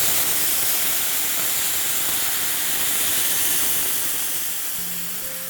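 A blended pizza sauce mixture of onion, garlic, ginger and tomato hisses loudly as it hits hot oil in a non-stick pan, a dense steady sizzle that slowly eases off.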